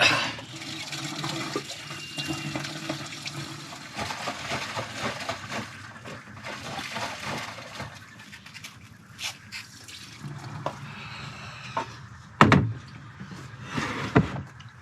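Campervan toilet cassette emptied at a public dump site in the Hawkesbury district, water pouring and gurgling in uneven bursts with splashing and a couple of sharp clunks near the end, close and moderately loud.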